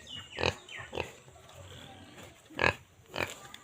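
A pregnant sow on a pig farm in Assam grunts close by in a few short, soft bursts spaced over a few seconds, with a quiet, steady background.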